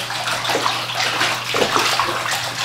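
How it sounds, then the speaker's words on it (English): Platinum palladium photographic prints are washed by hand in a tray of water, producing a steady, close, continuous slosh and swish with rhythmic surges of moving water. "You guys like my washing technique?"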